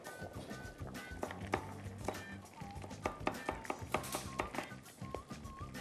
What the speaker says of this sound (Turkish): 5 diş sarımsağımızı güzelce bir şekilde doğradık.